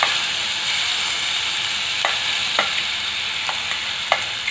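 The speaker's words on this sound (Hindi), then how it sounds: "तो दोस्तों हम तड़का लगा लेते हैं प्याज टमाटर की सब्जी में।" Spices crackle and sizzle in hot oil for a tadka for onion-tomato curry, a steady frying hiss, with a few soft stirring scrapes and no voices.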